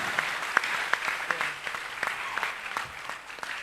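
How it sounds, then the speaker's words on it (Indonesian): Scattered, modest clapping from an audience at an alumni reunion talk, a handful of distinct sharper claps standing out over a thin wash of hands, fairly light and short. "Tepuk tangan dong, masa diam aja."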